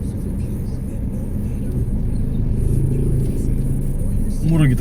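Steady road traffic with cars passing, a continuous engine rumble and occasional rising rev from a nearby vehicle, heard under ongoing conversation.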